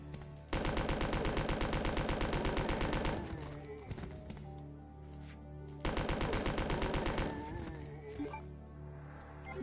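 Machine gun fire in Resident Evil 2 comes in two long, loud rapid bursts of evenly spaced shots, each followed by ringing echoes and clinks.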